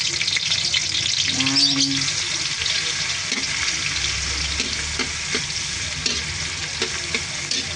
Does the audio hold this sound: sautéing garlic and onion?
yes